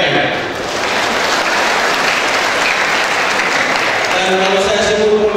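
Large audience at a university anniversary ceremony at Universitas Tadulako breaks into loud, sustained applause, a thick continuous roar of clapping that holds steady throughout, with a voice coming in near the end.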